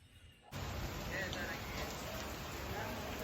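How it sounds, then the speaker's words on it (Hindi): Steady morning rain hisses in a broad, even wash after a brief quieter moment at the start, continuous and close with no talking over it. "आज यहाँ पे सुबह सुबह में बारिश शुरू हो गई है"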